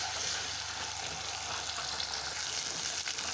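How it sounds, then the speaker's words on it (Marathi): Ginger-garlic paste frying in hot oil, a soft, even sizzle held at a low, steady level for a few seconds, faint and close with no talking. "तेल गरम झालं की आलं लसूणची पेस्ट टाकून तेलावर आपल्याला फ्राय करून घ्यायची आहे"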